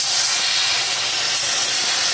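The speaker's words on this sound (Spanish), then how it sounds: "estoy vaciándolo, ¿vale? De vapor. Lo he dado a vaciar." Steam blasting out of a household clothes steamer as it is emptied, a loud, close, constant hiss filling the whole stretch with no voices.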